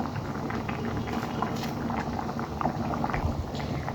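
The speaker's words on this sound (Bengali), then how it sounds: "আমার তরকারিতে বলক চলে এসেছে" Tilapia and pumpkin curry boiling in a pot, a close, continuous bubbling and gentle popping at an even level with no voices.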